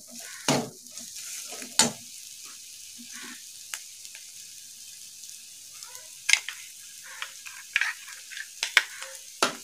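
Poppy seed paste with spices frying in a pan for a bitter gourd dish, a faint low sizzle broken by a scattering of sharp spoon scrapes and clinks against the metal.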